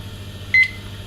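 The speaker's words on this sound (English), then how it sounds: "it went beep" A digital meat thermometer probe pushed into meat gives one short, clear electronic beep over a low steady background hum.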